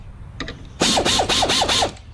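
Ratchet loosening a front strut bolt on a Chrysler Concorde: after a couple of faint clicks, a loud close burst of rapid ratcheting strokes runs for about a second, with four or five quick swings.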